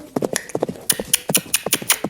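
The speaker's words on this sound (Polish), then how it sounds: "I tutaj już zaczynamy sobie galop." Horse hooves gallop in Star Stable Online, rapid rhythmic clip-clop beats in quick groups of three, close and clear with no talk.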